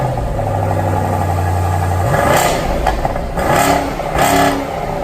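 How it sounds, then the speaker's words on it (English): A 2019 BMW 8 Series luxury coupe starts and settles into a steady idle, then gives three sharp revs with a deep exhaust note, each rising and falling back, close and loud. "turning on the new 8 Series, and specifically the exhaust note, which sounds surprisingly good"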